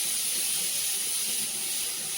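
Steady, loud hissing steam whistle from a pressure cooker cooking rice in a home kitchen, a continuous high-pitched rush with no break over the short stretch.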